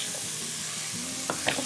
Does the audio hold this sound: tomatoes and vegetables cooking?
yes